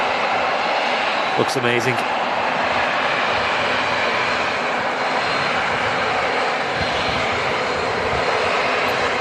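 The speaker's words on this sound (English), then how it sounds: "Love that shot of the aircraft taxiing back towards us." An airliner taxis at Manchester Airport with a constant loud engine roar and whine that fills the whole stretch, and a voice speaks briefly over it.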